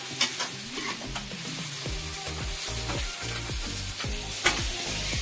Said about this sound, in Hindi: ये प्याज फ्राई हो रहा है जिससे कि प्याज जैसे कलर आएगा उसको निकाल लेंगे।